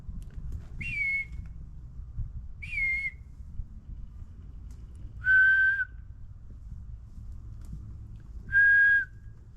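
Four separate whistles spaced a few seconds apart, each a clear held tone, later ones lower and louder, over a low rumbling background.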